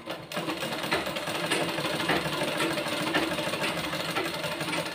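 A sewing machine runs steadily at close range during a tailoring job, a continuous mechanical whir with a fast stitching rhythm that holds for the whole stretch, with no talk over it.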